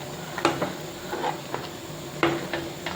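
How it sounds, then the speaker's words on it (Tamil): Black urad dal kali is stirred in a pan with cold-pressed sesame oil, the utensil knocking and scraping against the metal in a few sharp clinks spaced among quieter stirring. "எண்ணெய் ஊற்றி நம்ம கிண்டிக்கலாம்."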